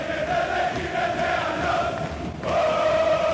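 A European football stadium crowd roars and chants in a dense, continuous wall of many voices, with a held sung note running through and swelling louder again near the end.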